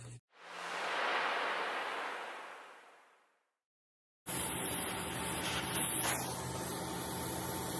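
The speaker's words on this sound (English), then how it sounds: "I'm just gonna use a little bit of old parts blaster here" Parts blaster aerosol sprays onto a damaged snow plow cylinder in a workshop, a single hissing burst of about three seconds that fades out, followed after a brief silence by steady shop noise.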